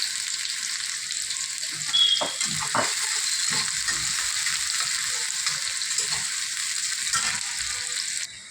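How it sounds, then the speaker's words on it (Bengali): Chopped onion fries in hot oil, a steady bright sizzle and crackle with a couple of stirring clanks near the start, close and unbroken with no voices. "তেল গরম আছে এই তেলের ভিতরে আমি পেঁয়াজ দিয়ে দেবো পেঁয়াজ কুচি"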